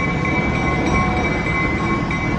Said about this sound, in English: That's the diesel back there, operating the train.